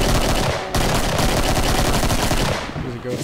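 Rapid, loud bursts of gunfire from the Doom 2 video game crackle almost without pause, briefly cutting out before resuming and then thinning toward the end.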